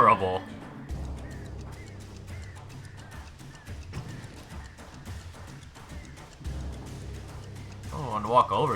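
Duck-like quacks and bird calls in the Alan Wake Remastered video game, heard over a steady low ambient drone with a heavy breathing-like layer, louder bursts near the start and end.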